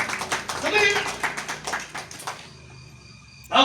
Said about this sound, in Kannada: ಯೇಸು ಕ್ರಿಸ್ತನ ಚಪ್ಪಾಳೆ ತಟ್ಬೇಕು ಜೋರಾಗಿ